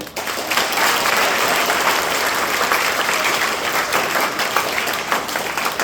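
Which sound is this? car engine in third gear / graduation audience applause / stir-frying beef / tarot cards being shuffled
graduation audience applause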